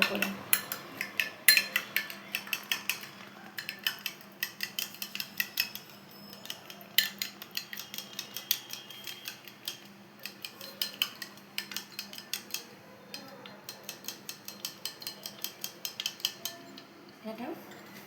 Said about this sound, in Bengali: এবার আমি ডিমটাকে আমরা মিক্স করে নেবো ভালো করে।